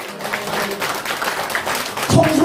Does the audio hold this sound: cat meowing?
no